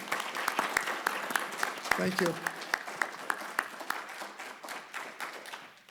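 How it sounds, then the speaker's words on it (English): Audience applauding candidates at a League of Women Voters county assessor forum in Nevada County, a steady indoor round of clapping lasting several seconds and fading out, with a brief spoken thanks over it. "Will everybody please join me in a round of applause for our candidates tonight?"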